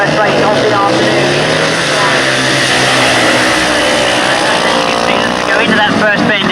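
Sidecar outfits roaring off at the start of a 1990 motorcycle grasstrack race, loud revving engines blending into a dense racing howl under a commentator's voice.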